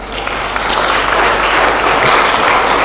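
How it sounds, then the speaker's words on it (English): Applause rises from an audience at a motivational speech event, dense and sustained clapping that stays loud and fairly even, swelling slightly toward the end. "Can you give a big round of applause?"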